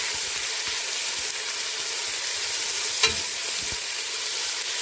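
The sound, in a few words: stirring onions frying in a pan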